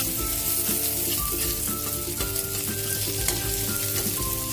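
Chopped onion fries in a hot pan with a loud, dense sizzle and crackle, joined by occasional stirring scrapes and clinks, close and steady throughout.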